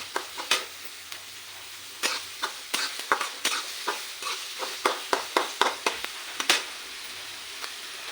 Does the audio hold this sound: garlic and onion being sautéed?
yes